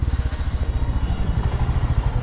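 A motorcycle engine idling close by while parking, a rapid regular low-pitched putter with even pulses and a slight clatter, heard alone and fairly loud.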